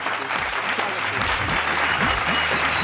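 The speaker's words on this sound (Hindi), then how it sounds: "जोरदार ताली के साथ" A room full of people at a poetry event clapping loudly and continuously, an even, dense wash of applause with a low hum underneath.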